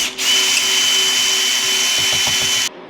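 A power drill fitted with the small bit from a Jeep's factory toolkit, used for hard top removal, whirs loud and steady for about two and a half seconds, starting and stopping abruptly.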